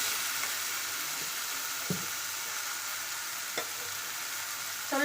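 Eggplant being pan-roasted for baingan bharta in an Uttara Karnataka home kitchen, a steady close sizzle with occasional brief scraping stirs, no voices.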